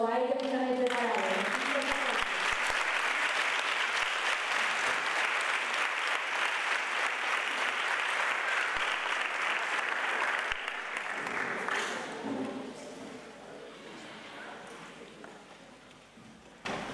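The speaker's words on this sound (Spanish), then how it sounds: "así que un aplauso a él" Sustained audience applause for a guitarist at a municipal music academy's closing concert, a broad, even roar of clapping that runs for several seconds, then tapers and fades while voices murmur underneath.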